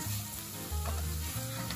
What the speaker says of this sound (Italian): aggiungiamo il riso. Lo facciamo tostare bene